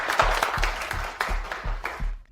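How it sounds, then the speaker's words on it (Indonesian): Office staff applaud to welcome a new supervisor, a brief patter of clapping that rises and falls in uneven bursts, fairly close and moderately loud. "Mari kita semua sambut dengan tepuk tangan."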